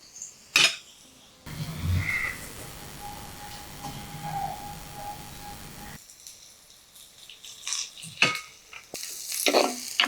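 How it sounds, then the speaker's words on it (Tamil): Onions and green chillies fry in a pan for a Sri Lankan rock fish curry, with a steady sizzle, occasional spoon scrapes and clinks against the pan, and a quieter stretch midway. "இந்த வெங்காயம் பச்சை மிளகாய் எல்லாம் அரைவாசிக்கு வதங்கி வந்துட்டுது"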